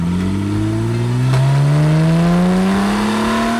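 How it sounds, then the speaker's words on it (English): Porsche 911 exhaust captured by a camera mounted at the rear of the car, a loud close engine note that climbs steadily in pitch as it revs up and shifts, rising again through continuous acceleration. "I can put it on the back of the car and get the exhaust sounds"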